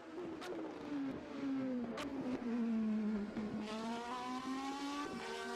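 DTM race car lapping the Hockenheim Ring, its engine note sweeping up and down through the corners with a loud, continuous roar and faint tire scrub, rising toward the end as it accelerates out of a bend.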